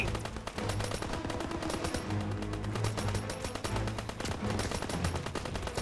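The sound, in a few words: machine gun fire in the video game Call of Duty WWII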